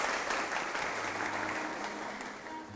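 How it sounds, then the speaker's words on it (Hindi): Studio audience of police officers applauding on a Hindi-language TV morning show, a dense, steady wash of clapping that holds for about three seconds, with a faint hum beneath. "आप लोग अपने लिए तालियां प्लीज़ बजा दीजिएगा।"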